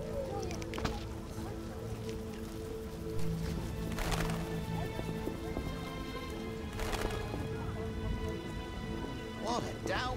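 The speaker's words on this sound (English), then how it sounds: "What a downpour." Steady rain pours down throughout in The Witcher video game, with hoofbeats clopping and a few sharp knocks, plus talking in the background.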